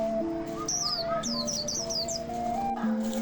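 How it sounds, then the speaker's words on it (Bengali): Several birds chirp and whistle outdoors in quick, high repeated phrases over a steady background hum, fairly close and continuous. "পাখির ডাক না ছাগলের ডাক?"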